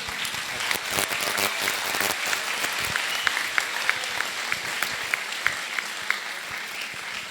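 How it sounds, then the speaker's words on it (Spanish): An audience at an international conference on technological innovation applauds after a talk, a steady wash of clapping lasting several seconds with a few sharper claps standing out. "Un aplauso, por favor."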